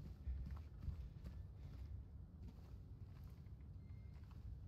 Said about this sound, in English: It sounds like big, big footsteps, big, heavy footsteps.